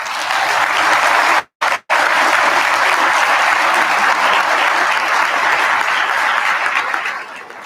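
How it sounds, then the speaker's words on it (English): An audience claps for Dr. Reyes after a talk, dense sustained applause filling the room at close range, broken by a brief cut near the start, then tapering slightly toward the end. "Can I have one more round of applause for Dr. Reyes?"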